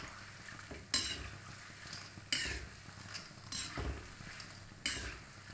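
Namkeen khajur, a thick salty dough snack, fries in hot oil over a low flame, a steady bubbling sizzle broken by four sharp scraping stirs of a spoon in the pan.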